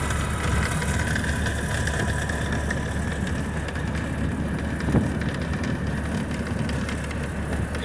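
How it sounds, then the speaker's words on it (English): A 1929 Model A Ford Woody station wagon runs with a steady low rumbling engine drone heard from inside on a ride, unchanging and fairly quiet throughout with no talk. "going for a ride in a 1929 Model A Ford Woody"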